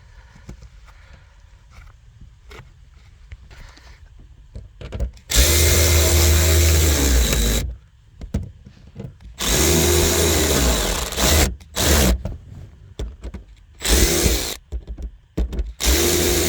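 A power tool tightens bolts on the fuel tank pressure sensor cover of a 2006–2011 Cadillac DTS. It runs in three loud, close bursts of about two seconds each, separated by quiet pauses with light handling clatter.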